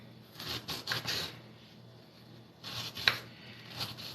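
Food is roughly chopped by hand, irregular bursts of scraping, rubbing strokes with a few sharp knocks, moderately close and fairly quiet with pauses between them.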